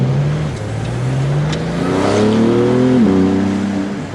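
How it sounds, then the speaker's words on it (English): A 2018 Porsche 911 GT2 RS's exhaust burbles and rises in pitch as the car accelerates at low speed, a loud, throaty engine note heard from inside. "the exhaust is already very prominent, and it wants to go"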